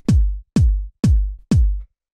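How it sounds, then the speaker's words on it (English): Four fat 909-style kick drum hits for a deep minimal house track, evenly spaced about half a second apart, each a loud booming thump with a long low tail, played alone. "just like a fat 909 style kick like this"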